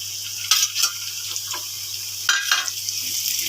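An egg goes into pasta frying with chili powder and spices in a pan, giving a steady sizzle broken by a few bursts of scraping and stirring, with a low hum underneath.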